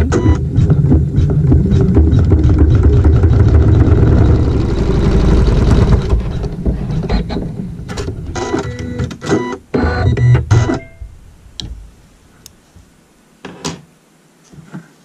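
A sewing machine stitches a fabric seam through pink floral quilting fabric laid right sides together, running steadily and loudly for about six seconds, then slowing into short stop-start bursts with clicks and handling noises before falling quiet.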